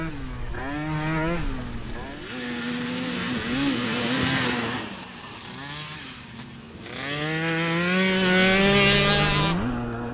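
Banshee quad and motocross bike engines racing on a dirt track, loud high-revving two-stroke wails rising and falling as machines pass close, with shifting pitch sweeps through gears and a second surge of revving near the end.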